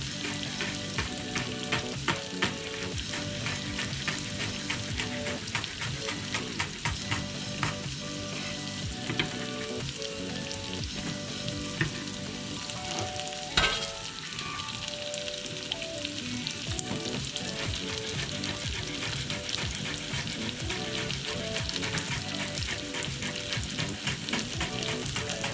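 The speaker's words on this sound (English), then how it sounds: "Then this is some spring onion leaves, which I will fry as well," Spring onion leaves fry in a pan for an asparagus soup, a dense steady sizzle with crackling pops and occasional stirring scrapes, close and continuous for about twenty-five seconds.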